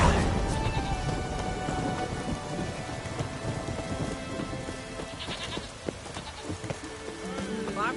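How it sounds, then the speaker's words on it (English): Steady rain in The Witcher 3 falls over a dim in-game scene, a continuous dense patter with low rumbling underneath and occasional faint chimes and creaks, fairly quiet throughout. "It's raining."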